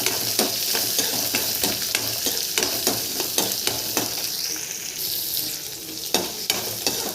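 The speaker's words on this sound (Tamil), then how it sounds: "இப்போது வெங்காயத்தை போட்டுக்கலாம் வெங்காயமும் வணங்கட்டும்" Chopped onions sizzle steadily in a hot pan while a utensil scrapes and stirs them in frequent sharp strokes, close and fairly loud throughout; the pan holds garlic already browned, for a ground spinach and moong dal kootu.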